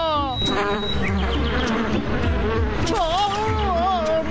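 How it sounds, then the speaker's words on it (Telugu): Buzzing cartoon bees weave and swoop over a busy, layered backdrop of cartoonish sound effects, continuous and fairly loud, in a Boonie Bears animated cartoon. "తేనెటీగలు కలుస్తున్నాయి"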